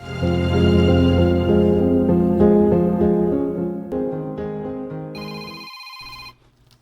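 A telephone rings with a bright electronic melody, loud and close, playing several repeated musical phrases before cutting off near the end.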